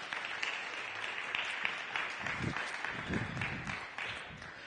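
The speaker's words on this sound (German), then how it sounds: "Donnernder Applaus, zehn Minuten für Helmut Kretschmer" Sustained applause from a large crowd, steady and dense throughout, with a few louder claps and murmurs rising near the middle.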